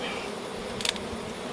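Honey bees buzzing around a hive box during a honey harvest, a continuous close hum with a brief sharper burst near the middle, no talking.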